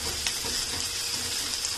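Onions sautéing in a pan give a dense, close, continuous sizzle with faint stirring scrapes mixed in, short and steady with no talking.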